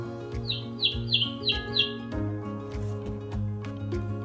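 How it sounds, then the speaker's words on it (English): A bird squawks in a quick run of five short calls over a steady musical backing, then only the music continues. "21 singing birds."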